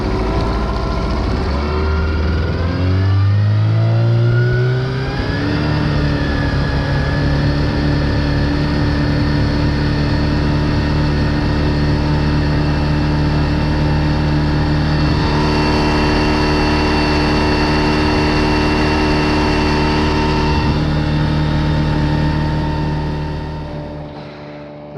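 A Suzuki outboard motor drives a boat on a grayling fishing trip, droning loud and close with strong engine harmonics. Its pitch climbs sharply in the first few seconds, then settles into a steady cruising hum before fading at the very end.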